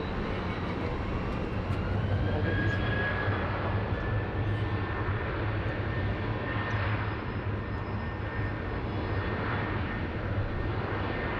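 Qantas Boeing 737 jet taking off from runway 16 right at Sydney Airport: a continuous, distant engine roar with a broad rumbling wash and a faint rising whine, steady throughout.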